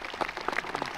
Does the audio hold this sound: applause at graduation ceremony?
yes